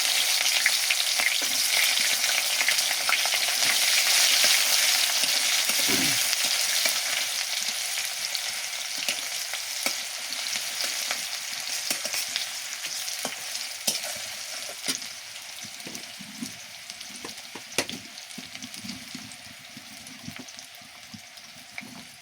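Chopped onions and a bay leaf fry in hot oil for a chicken and potato curry, a steady loud sizzle with occasional stirring clatter, no voices.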